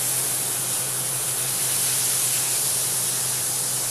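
A steak sizzles in a hot pan in a smoky dining-car kitchen, giving a loud, steady broadband hiss that runs unbroken, with no talking over it.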